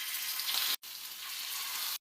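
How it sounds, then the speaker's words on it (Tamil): Marinated fish pieces with masala frying in hot oil in a pan, a steady loud hiss and sizzle broken by two brief gaps. "எண்ணெய் நல்லா சூடானதும் நான் மீன் மசாலா சேர்த்து ஒரு 10 நிமிஷம் நல்லா ஊற வச்சுருக்கேன்"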